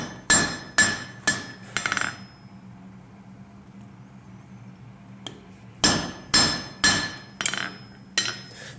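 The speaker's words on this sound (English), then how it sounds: "Here it's always a little bit of guessing and forging the piece upside down." A blacksmith's hammer rings on metal while forging a Viking rune pendant: a quick run of about four sharp, loud strikes, a pause with low room hum, then another rapid series of about six strikes, close and clear with no talk.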